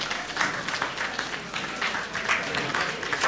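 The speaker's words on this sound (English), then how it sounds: "the way they will treat at this hall by standing and clapping for them" Sustained applause from an audience at a town hall discussion on higher education, a dense steady wash of many hands clapping, moderately distant and even throughout.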